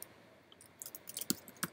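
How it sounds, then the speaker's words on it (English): Fingers typing on a computer keyboard to fill in a name field, a few sharp close key clicks after a quiet start, short and irregular, with no voice. "I'm going to type Forever Match"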